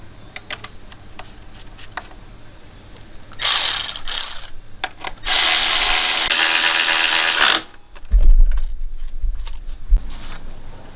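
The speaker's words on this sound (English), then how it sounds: "you use an 8mm socket or wrench on these" Ratchet with an 8mm socket tightening bolts on a Kubota Z725 mower, two bursts of rapid clicking close up, each a few seconds long, followed by low knocks and thuds as the tool is set down.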